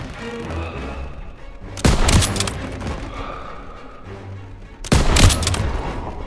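Intense gunfire in the World War II shooter Call of Duty: WWII, with two heavy loud volleys of rifle and machine-gun shots and booming impacts amid continuous battle noise.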